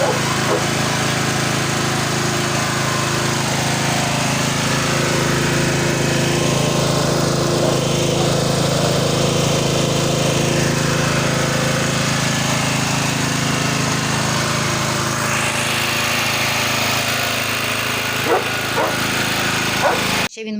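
A newly bought generator's small engine runs at a steady, loud, unbroken drone after starting, holding a constant pitch throughout.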